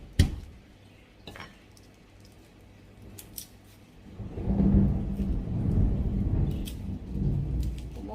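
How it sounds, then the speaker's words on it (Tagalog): Loud thunder rolls in during a rainy spell while garlic and vegetables are being chopped in a kitchen. A low rumble swells from the middle of the clip and lingers, with sharp cutting clicks scattered over it. "Ang lakas ng kulog."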